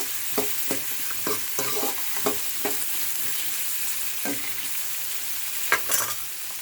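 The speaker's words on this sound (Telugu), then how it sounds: "కొంచెం ఉప్పు వేసి ఆనియన్స్ మగ్గించుకోవాలి." Onions frying in a pan with salt, giving a steady sizzle broken by sharp scraping stirs at irregular intervals, alone with no talk.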